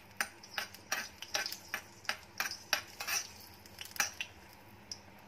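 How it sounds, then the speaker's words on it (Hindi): A spoon scrapes and taps against a pan while a dry red chilli is stirred in a teaspoon of hot oil over low gas, giving a close series of sharp metallic clicks in an irregular rhythm over a faint sizzle. "अब इसमें 1 सूखी लाल मिर्च डाल देंगे। इसको थोड़ा स्टर करेंगे।"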